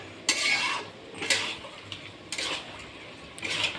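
A utensil stirs chicken kosha with chicken masala in a pan, making four separate scraping strokes at an even pace. The strokes are close and clear, with no talking.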